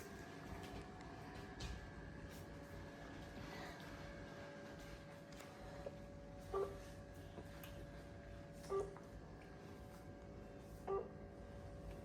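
A phone line fails to connect: faint steady tones with three short beeps recurring every two seconds or so, over a low background hum.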